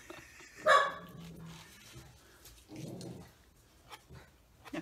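A small dog barks close by in a quiet home painting studio: one sharp loud bark near the start, then softer, shorter barks a couple of seconds later.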